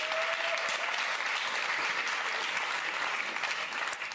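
Steady applause from a political debate audience in Amsterdam, dense and continuous throughout without a break, moderately loud and sustained across the whole stretch.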